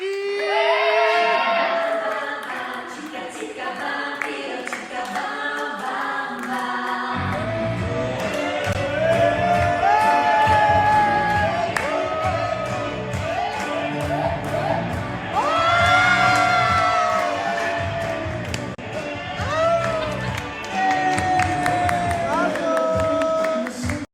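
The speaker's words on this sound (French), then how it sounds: "On peut applaudir Melvin!" An audience at a gala-themed show clapping, whooping and cheering loudly and continuously, with music playing underneath the crowd noise.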